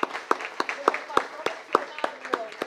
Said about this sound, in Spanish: quien damos un aplauso, por favor.